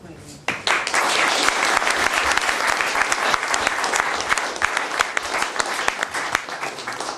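An audience at a celebration for the 100th issue of the journal El Catoblepas breaks into applause. The clapping starts abruptly and stays dense and sustained, with some voices mixed in.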